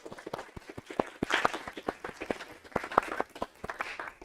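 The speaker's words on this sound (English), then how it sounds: "Clap it up for all the people still sitting here in the room." A small conference crowd of about twenty people claps near the microphone, with sparse individual claps forming a loose, uneven rhythm instead of a full ovation.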